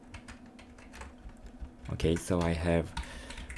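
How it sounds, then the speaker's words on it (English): Computer keyboard keys clicked in quick, light taps while navigating cells in a LibreOffice Calc spreadsheet, close and fairly quiet, running beneath a voice that comes in partway through. "Now if I press tab key from keyboard, I move to the right."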